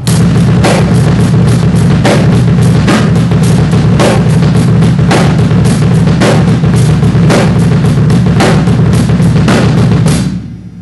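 A drum kit plays a rolling 3/4 pattern accenting every third sixteenth note, with dense, loud cymbal wash and regularly spaced hits driving steadily for about ten seconds before the sound cuts away.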